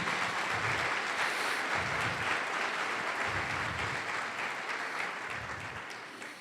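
A church congregation applauds steadily at a Spanish-language service, a sustained wash of clapping with low rhythmic thumps underneath that slowly fades toward the end.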